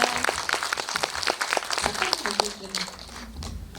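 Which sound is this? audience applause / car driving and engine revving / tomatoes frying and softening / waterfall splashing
audience applause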